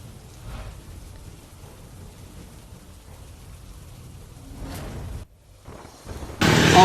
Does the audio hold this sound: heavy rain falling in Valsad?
yes